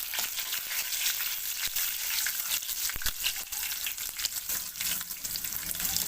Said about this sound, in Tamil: இது நல்லா வறுத்துக்கோங்க.